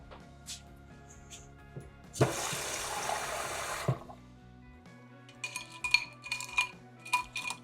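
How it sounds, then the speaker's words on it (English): Water gushes from a tap into a container for a couple of seconds, followed by light clinks of dishes and utensils in a sink. "Fill it up with water a little bit."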